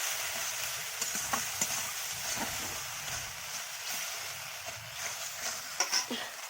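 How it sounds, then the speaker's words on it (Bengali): Chili and turmeric masala fries in a pan with a soft continuous sizzle, while a spoon stirs it, giving scattered light scrapes and taps throughout. "এইবার মশলাটাকে আমি ভালো করে নাড়াচাড়া করে নিচ্ছি।"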